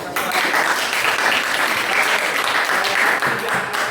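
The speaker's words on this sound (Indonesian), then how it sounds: "Oke, silakan tepuk tangan untuk." Sustained applause fills a classroom at a teacher-training session in Indonesia, a dense, steady wash of many hands clapping at once that runs loud and even from start to finish.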